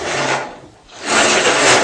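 Shopsmith planer knives being touched up by hand with a file or hone on an unplugged planer, giving a steady close rasping scrape that eases briefly mid-stroke before a second sustained stroke.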